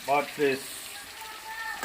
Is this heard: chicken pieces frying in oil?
yes